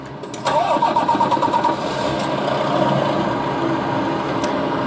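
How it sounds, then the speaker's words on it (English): A truck engine in Euro Truck Simulator 2 cranks briefly and catches, then settles into a steady, rumbling idle close by. "Let's start the engine."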